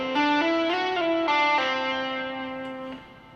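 An electric guitar with effects plays a short whole tone lick, with pitch stepping and sliding through several notes, pull-offs, and a final sustained note that rings out alone.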